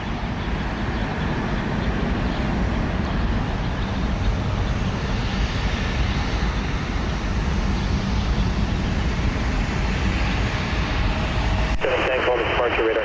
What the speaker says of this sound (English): It's a Challenger 300 Bombardier out of Sarasota, Florida.